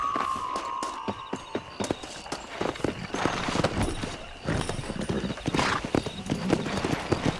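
Horse hooves clip-clop at a galloping pace in the Red Dead Redemption video game, steady and fairly close, with an occasional whinny and some game sounds mixed in.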